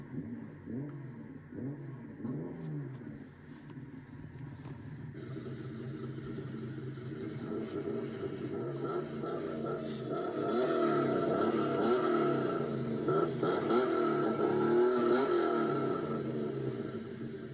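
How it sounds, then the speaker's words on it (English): An electronic engine sound effect from a toy Nissan Skyline cycles through repeated revs, then climbs into a louder, sustained high-pitched whine before easing off. "If I can make a sound of this Nissan Skyline."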